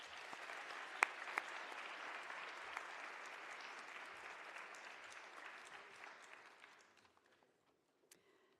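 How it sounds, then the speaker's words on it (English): Audience applause for the panelists at a social justice symposium: a steady, moderately distant wash of clapping that lasts about six seconds, then fades into near silence with a stray clap. "Please join me in clapping it up for the panelists one more time."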